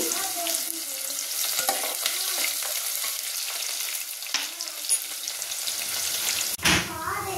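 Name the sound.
chopped onions and shallots frying in tempering seeds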